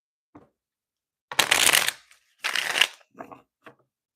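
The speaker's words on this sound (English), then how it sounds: "let's get a few shuffles in" A deck of tarot cards is shuffled in two loud, riffling bursts of about a second each, close up, with a few small taps and card handling sounds before and after.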